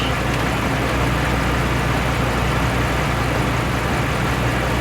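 A car engine idles steadily with a constant low rumble throughout, close by and fairly loud, with no talking.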